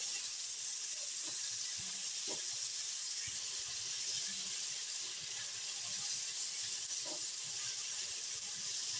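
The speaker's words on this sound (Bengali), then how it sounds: "এবার আনারসের টুকরোগুলোকে মিনিট 2 নেড়েচেড়ে নিতে হবে।" Chopped pineapple stirred in a pan with mustard and chilli for a Bengali chutney, a steady loud hiss of sizzling with a few faint clinks of the spoon against the pan.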